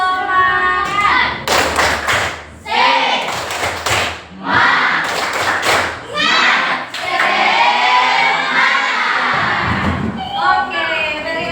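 A group of Indonesian junior high school students doing tepuk semangat, a rhythmic spirit clap, in a school counselling session. Bursts of loud, patterned claps and thumps alternate with chanting and voices, all close and energetic.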